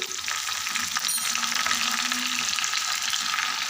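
Garlic and curry leaves sizzle steadily in hot oil for a tempering, a dense continuous crackle close up with light stirring throughout and no voices.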